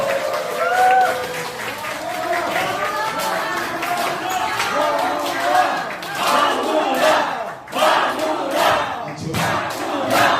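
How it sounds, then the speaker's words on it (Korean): A crowd at a political rally launch gives welcoming applause and cheers with shouts, a loud continuous mass of clapping and voices rising and surging in waves throughout. "여러분 큰 박수로 환영해 주십시오"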